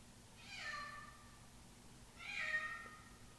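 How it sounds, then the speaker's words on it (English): A cat meows twice indoors, each a drawn-out cry about a second long, fairly faint over quiet room noise. "I'm sorry about the cat."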